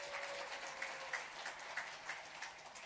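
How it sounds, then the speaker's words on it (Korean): A church congregation claps in welcome during a Sunday worship service, a light, fairly steady patter of applause sustained throughout without speech. "박수로 환영하겠습니다."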